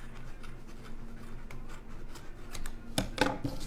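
Scissors snip through wound string, a few faint close cuts near the end over a quiet background hum.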